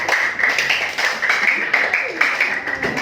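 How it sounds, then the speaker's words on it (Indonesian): Schoolchildren in a classroom clap for classmates who answered a question, a short burst of quick, bright claps up close with a few louder single hits toward the end. "Kasih tepuk tangan dulu buat yang sudah jawab."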